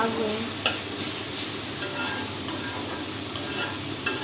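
Beef with leafy greens frying in a pan, a constant loud sizzle broken by several sharp scraping strokes as a utensil stirs the mixture at irregular intervals.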